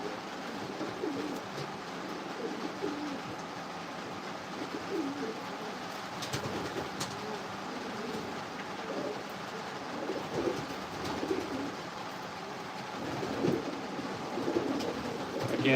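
Racing pigeons coo softly and repeatedly inside a breeder loft on a rainy day, low murmuring calls overlapping at close range against a quiet steady background, with no talking.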